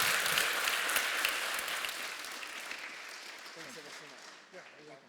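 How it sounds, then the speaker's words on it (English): A conference audience applauds a closing keynote speaker, loud dense clapping that gradually fades, with a voice speaking faintly near the end. "A big round of applause for Rob then."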